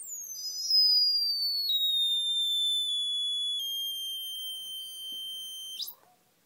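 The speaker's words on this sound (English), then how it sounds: "Little buzzer here, piezo buzzer, that's what's making the noise." A piezo buzzer in a 555-timer dark detector circuit drones a steady high-pitched electronic tone for about five seconds, its pitch sliding slowly downward, then cuts off abruptly, with faint background noise.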